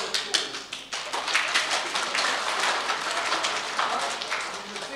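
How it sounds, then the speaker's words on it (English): An audience gives a round of applause at a career expo, with dense, close clapping that stays steady and lively for the whole few seconds. "Give Peter a round of applause."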